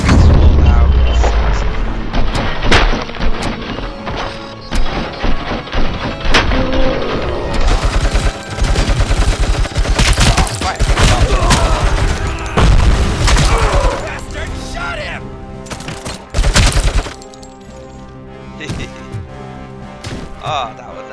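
Gunfire in Robocop Rogue City, loud rapid bursts of heavy shots and booming impacts with punchy recoil, intense and close, broken by brief pauses and ending in scattered reports.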